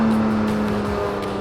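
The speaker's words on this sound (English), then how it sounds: "loving the sound of that 4-liter naturally aspirated engine sitting right behind your head" The 4-liter naturally aspirated engine of a Porsche 718 Spyder, mounted behind the cabin, drones loudly and steadily from close by for a short moment with no talk.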